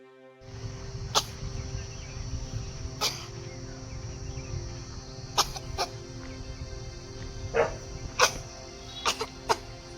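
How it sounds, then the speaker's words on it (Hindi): A person coughs repeatedly, close by, in sharp bursts at irregular intervals over a steady low hum, with no talking. "मुझे बहुत तेज खांसी आ रही है"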